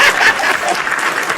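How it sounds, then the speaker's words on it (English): A short burst of loud, dense hand clapping, like applause, played as a sound effect, steady throughout with no voices over it. "You going to get my hand claps ready?"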